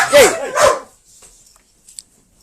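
A dog gives two loud, close barks in quick succession, followed by near silence with a faint click.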